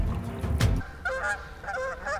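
Geese honk a few times at moderate distance, short nasal calls following a loud rumbling thump at the start.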